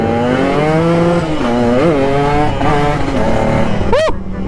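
A Honda Sonic 150cc motorcycle engine revs loudly up close, its pitch climbing and dipping in several throttle blips, ending in a sharp high rev before cutting off.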